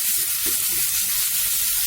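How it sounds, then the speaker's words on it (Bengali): Onions fry in a pan with a loud, steady sizzle, a dense close crackling hiss that holds throughout without a break. "পেঁয়াজটা ভাজা হোক"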